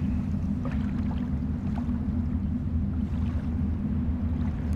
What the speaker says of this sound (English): Sounds eerie. The wind through the pipe.